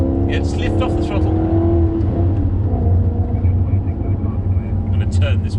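A Maserati's Ferrari-built V8 pulls steadily while driving, with a continuous deep, loud rumble and rising engine tones, lifting briefly off the throttle, and voices talking over it.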